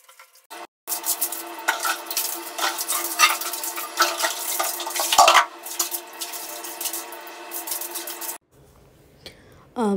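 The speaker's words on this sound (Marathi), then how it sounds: "भिंतीला साबण टाकून ना पाण्यामध्येच आणि त्या झाडूने ना छान असं सगळं क्लीन करून घ्यायचा प्रयत्न करते आहे." Scrubbing a bathroom wall with a broom, soap and water produces continuous wet swishing and brushing with splashes for most of the span, then stops abruptly near the end, with faint household sounds after.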